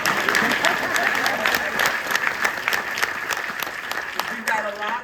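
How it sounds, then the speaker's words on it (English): Audience at a Martin Luther King Jr. commemoration in a museum hall applauds steadily throughout, dense sustained clapping that fades slightly toward the end, with a voice briefly audible near the close. "You can clap a little"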